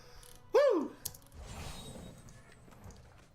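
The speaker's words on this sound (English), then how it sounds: "that was the sound of a level up" A short chiming level-up jingle from the fantasy role-playing game Pillars of Eternity II rings out with a quick rising-and-falling tone, followed by quieter game ambience.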